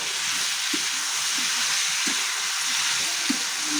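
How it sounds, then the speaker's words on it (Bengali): Drumstick stem (sajne data) curry with mustard paste frying in a pan while being stirred, a steady close sizzle with soft intermittent scraping stirs throughout, no talking. "চিনিটা দেওয়ার পর কিন্তু একটু ডাটাটা একটু নাড়িয়ে দেবো"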